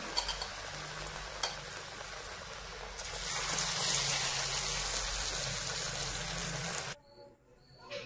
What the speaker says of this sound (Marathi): दुसरा पण तळून घेते